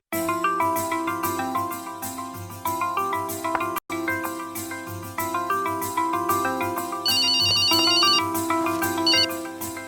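A phone ringtone plays as a call goes through, a bright melodic ring repeating steadily for several seconds, close and clear with no talking.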